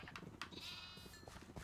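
Sheep bleating in the Minecraft video game, a wavering bleat in the middle of the clip over low background game noise with a few short clicks.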